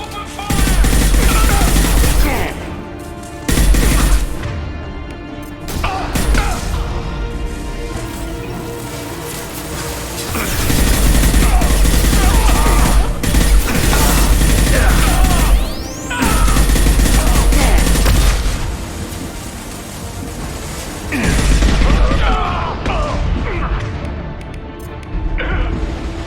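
Heavy gunfire in the video game Mass Effect Legendary Edition: loud, dense bursts of rapid automatic fire mixed with crashing impacts, coming in long sustained volleys separated by brief lulls.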